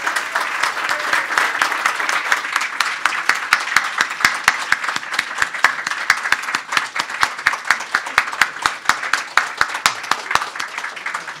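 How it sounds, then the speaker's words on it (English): Warm applause for Professors Mishkin and Summers at an MIT Sloan Club of New York event, steady and fairly close, with sharp individual claps standing out from the dense crowd sound throughout. "please give the Professors Mishkin and Summers a warm round of applause"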